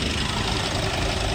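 A used car's engine idles in a steady, low, continuous rumble during a pre-purchase inspection, close and without talk.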